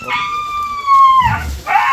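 A dog trapped in a pit alongside a tiger lets out a loud, drawn-out howling whine, followed by a lower yelp and another short cry, with commotion around it.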